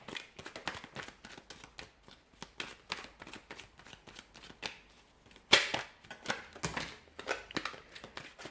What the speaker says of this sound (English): Just going to reshuffle.